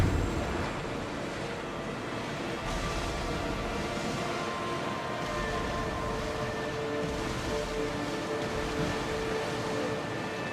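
Ship sailing across open sea in Assassin's Creed Odyssey: steady broadband rush of waves and wind around the hull, continuous and fairly loud, with faint tonal game ambience and no speech.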